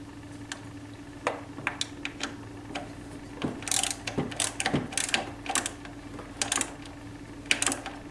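Ratchet tightening bolts on a scooter ignition, Nitro or Aerox type: quiet clicking strokes in short irregular runs, the clicks near and crisp over a low mechanical hum.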